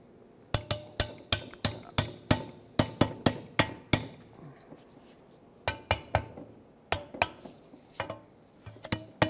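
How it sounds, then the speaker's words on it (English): Sharp metallic hammer blows strike a rusted wheel bearing knuckle on a Mitsubishi Outlander, landing in quick irregular runs separated by brief pauses, loud and close. "when you're hammering back and forth, you have loose rust residue and corrosion"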